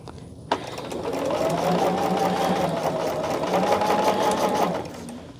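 A sewing machine starts with a click and then stitches in a steady, fast whirring hum for about four seconds before slowing to a stop, close and clear with no talking.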